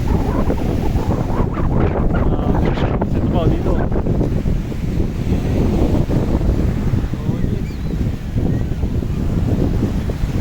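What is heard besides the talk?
sea waves and wind at Patungan beach, Cavite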